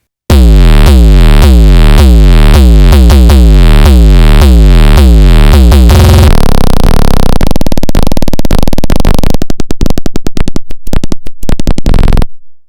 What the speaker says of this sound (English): I have 2 808s in this song